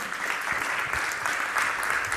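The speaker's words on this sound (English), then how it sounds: "A big round of applause then." An audience at a conference talk applauds, with dense, sustained clapping from a crowd filling the room evenly at moderate volume.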